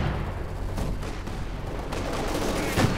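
Heavy mortar fire in a Company of Heroes 2 2v2 match, a steady dense rumble of repeated booming shots and distant explosions, with a sharper thump near the end.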